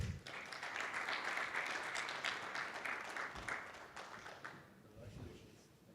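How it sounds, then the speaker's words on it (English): Applause from the audience at a business panel awards moment, a dense wash of clapping that swells early and slowly thins toward the end, fairly faint with some voices under it. "Please give them a round of applause."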